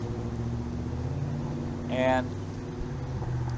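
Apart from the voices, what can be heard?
town traffic noise in background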